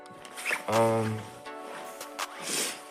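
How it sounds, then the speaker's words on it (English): The double zipper on a black Canada Goose jacket is worked in a few quick rasping pulls, close up, with a brief vocal sound overlapping the middle of the action. "show you all the double zipper"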